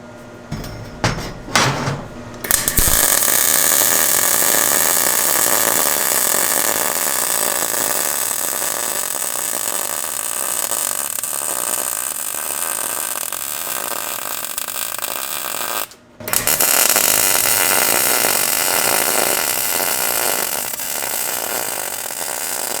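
Budget MIG welder laying a bead, a steady loud crackling buzz that runs about 13 seconds, cuts out briefly, then resumes for several more seconds, after a few sharp clanks at the start.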